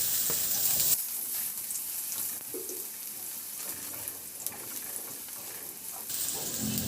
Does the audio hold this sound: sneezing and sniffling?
no